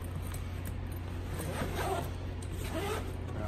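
A zipper on a range bag is pulled open up close, a quick rasping zip that repeats in short bursts over a steady background hum.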